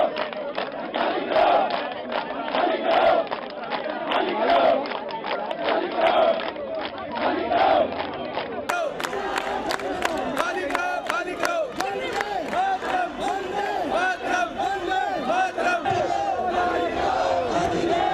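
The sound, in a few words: crowd of protesters chanting slogans at Singhu border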